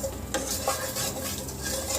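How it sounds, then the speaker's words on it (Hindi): Spices with coriander powder and crushed kasuri methi roasting in a pan for arbi makhana jhol, heard as brisk scraping stirs over a low sizzle, close and rhythmic with no voices. "सब मसालों को हम अच्छे से भूनेंगे"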